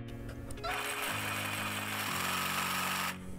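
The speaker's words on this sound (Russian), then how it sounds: "В зависимости от силы нажатия меняется скорость работы лобзика." AEG BST18X cordless jigsaw running in short bursts whose pitch steps up and down with the variable-speed trigger, a close, steady buzzing whine that stops abruptly at the end.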